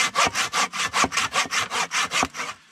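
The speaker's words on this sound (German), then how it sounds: "Ich bin so froh, dass ich die Säge mitgenommen habe." Hand saw working through wood at a wilderness campsite, about ten rhythmic push-pull strokes, close and prominent, fading out at the end.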